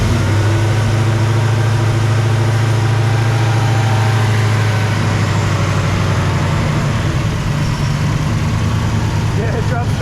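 A Chevelle SS 454 big-block V8 fitted with Holley Sniper EFI idles steadily and close, a deep low rumble that holds an even level throughout with a faint voice underneath.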